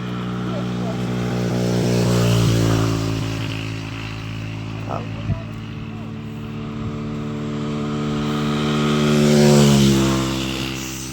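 A car engine drones steadily inside a moving vehicle, its low hum running under the whole stretch while a voice talks over it.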